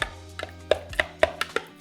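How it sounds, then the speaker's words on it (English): A spoon breaks up solidified agar gel, giving about eight sharp, close taps and squelches in quick irregular succession, alone and with no talk. "We're gonna break it up with a spoon, just to make it easier to blend, really."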